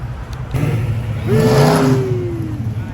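A car circles nearby in a public lot, its engine rising into a rev around the middle before easing off, with a steady low rumble throughout and no talking.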